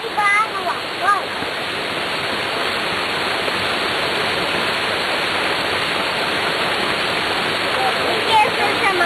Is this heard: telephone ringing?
no